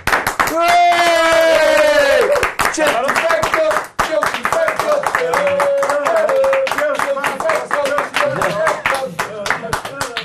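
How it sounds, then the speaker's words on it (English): Audience at a live Chelsea fan podcast awards event clapping rhythmically and briskly in sustained bursts while someone shouts and talks loudly over the clapping throughout. "More applause, right, thank you."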